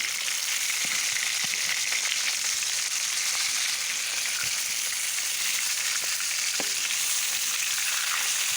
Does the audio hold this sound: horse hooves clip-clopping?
no